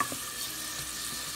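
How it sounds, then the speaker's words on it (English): Onions sautéing in olive oil in a pan on a stovetop burner give a steady, close sizzle with soft crackle, even and unbroken throughout. "can turn the eye up a little more so I can get the sizzling."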